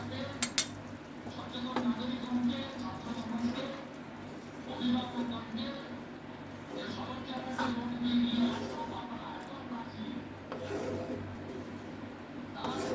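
A spoon stirring chana dal tadka in a pot, with repeated metallic scrapes and clinks against the pot over a low steady hum, close and moderately loud.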